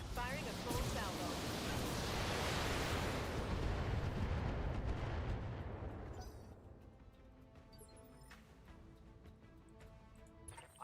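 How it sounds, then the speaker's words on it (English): A mech unleashes a close-range weapons salvo in the Battletech video game, a loud, dense rumbling barrage of blasts that gradually fades into quieter clicks and electronic tones. "Firing a close salvo."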